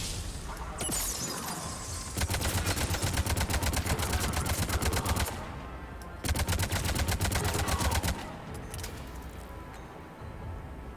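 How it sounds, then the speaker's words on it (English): Rapid automatic weapon fire in Mass Effect 3 Legendary Edition, two long sustained bursts of fast crackling shots separated by a short pause, with scattered impacts and battle noise around them. "I'm gonna keep shooting them."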